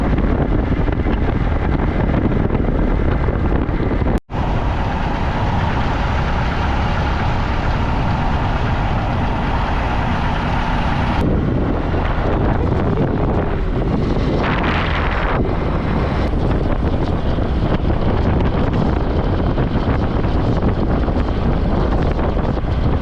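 Wind roars across the microphone while riding a motorbike on a road trip through Nepal's Terai plains, a loud continuous buffeting rush mixed with engine drone that lasts throughout with no talking.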